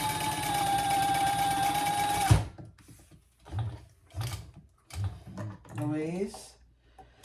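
A domestic sewing machine topstitches a seam on a mini crossbody bag, running in a steady loud whir for about two seconds before stopping abruptly, followed by a person talking.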